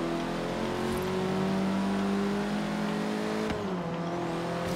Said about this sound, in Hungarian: ez meg lehet rendesen hallani a turbót